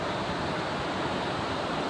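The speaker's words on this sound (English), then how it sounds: "You see that waterfall over there?" Steady, broadband rush of falling water at Linville Gorge, filling the whole stretch at an even loudness with no voices or breaks, like a distant waterfall or cascade heard from a campsite.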